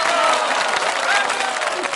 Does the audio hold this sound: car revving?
no